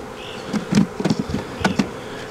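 Honey bees buzzing close by while being moved from a nuc into a hive, individual bees droning past in short, uneven bursts over a quiet background.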